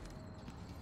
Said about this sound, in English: I hear footsteps behind me.